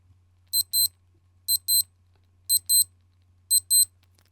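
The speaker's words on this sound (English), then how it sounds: "you can hear the watch beep" A Casio A500 digital watch alarm: high electronic double beeps repeat four times at an even one-second rhythm, crisp and close against a faint low hum.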